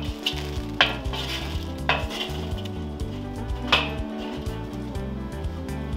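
Hot charcoal is tipped and raked across an outdoor grill, giving scraping, crunching clatter with several sharp metallic knocks at intervals over a steady gritty rustle, close and fairly loud.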